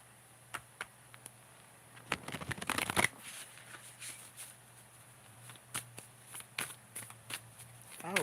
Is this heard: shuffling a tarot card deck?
yes